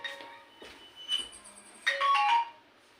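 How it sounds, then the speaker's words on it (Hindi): A phone's electronic ringtone plays in short melodic bursts, faint and fairly thin, with gaps between phrases and no talking. "थोड़ा सा फोन बजने लगा था।"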